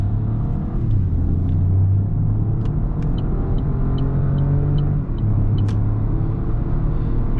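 A 2020 Opel Corsa in sport mode accelerating at full throttle, heard from inside as a steady, loud engine drone and low road rumble that gradually rises in pitch, with no talking.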